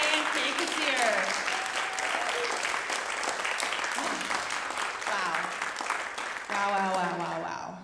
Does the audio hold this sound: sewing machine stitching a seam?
no